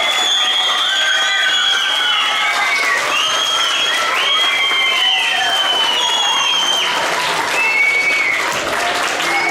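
Schoolchildren at a 23 Nisan children's festival event with the Türk Yıldızları aerobatic team burst into loud, sustained applause and cheering, with high-pitched shouts and whistles running throughout.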